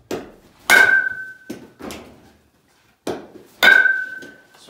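Indoor baseball bounce drill: balls thud off the floor and a bat strikes them with two sharp, ringing hits, separated by softer bounce knocks and brief quiet gaps.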